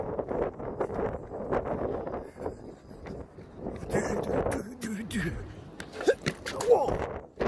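Outdoor wind buffets a phone's microphone in gusty, rumbling bursts, rising and falling under people talking and exclaiming.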